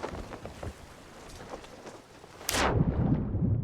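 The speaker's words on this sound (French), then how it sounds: "Il pleut." Rain in the pirate video game Sea of Thieves, a steady hiss of falling drops that swells into a louder, denser downpour with low rumbling underneath.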